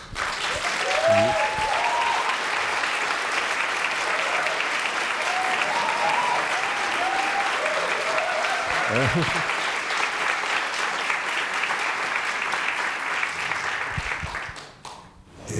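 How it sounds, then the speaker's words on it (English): Film festival audience giving a standing ovation after a screening, dense sustained applause filling the hall for many seconds, with voices talking over it and the clapping fading out near the end. "I trust that it was a standing ovation."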